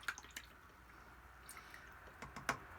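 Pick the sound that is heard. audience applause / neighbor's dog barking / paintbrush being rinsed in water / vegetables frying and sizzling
paintbrush being rinsed in water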